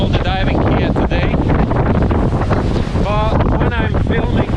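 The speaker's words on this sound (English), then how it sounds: "The waves are really big, so we cancelled all the diving here today." Big sea waves crash and churn at Amed Beach under strong gusting wind that buffets the microphone, a loud continuous roar with surging swells.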